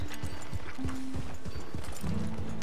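Horse hooves clip-clop on a town street in the video game Red Dead Redemption II, a steady close rhythm of several hoofbeats with faint tonal game sounds underneath and no talking.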